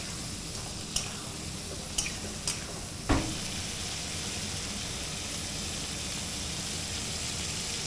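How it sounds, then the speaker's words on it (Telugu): Chilli chicken with coriander fries in a pan with a constant loud sizzle, broken by a few sharp clinks and scrapes of a spatula against the metal, close and without voices. "ఇది కొద్దిగా బాగా ఫ్రై అవ్వాలి."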